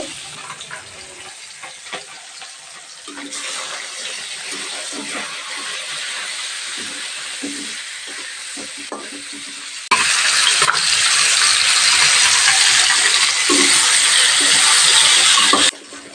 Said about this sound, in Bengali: মাছের মাথা প্রথমে ভেজে নেব